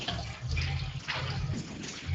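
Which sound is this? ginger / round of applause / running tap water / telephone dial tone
running tap water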